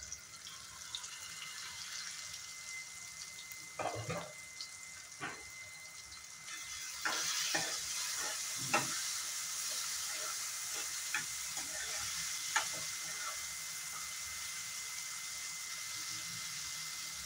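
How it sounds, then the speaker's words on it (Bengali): Onion, tomato and green chili frying in a pan for a rajma dish give a steady, soft sizzling hiss with scattered small pops and crackles throughout, and no one speaks. "যতক্ষণে পেঁয়াজটার কালার না আসে আর টমেটোটা গলে না যায় ততক্ষণে আমি ফ্রাই করে নেব"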